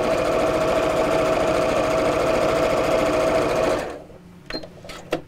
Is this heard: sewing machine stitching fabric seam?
yes